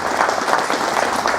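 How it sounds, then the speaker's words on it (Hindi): Audience clapping at a welcome ceremony during a community programme, a dense, steady wash of many hands that stays loud and even throughout, with no pause or break. "ताली ताली बजाते"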